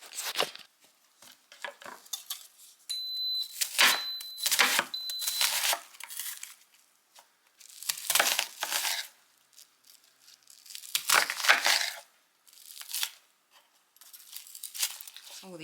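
Onions being chopped with a knife on a cutting board for corn chowder in an Instant Pot: bursts of crisp, close cutting and crunching with short pauses between, no talk.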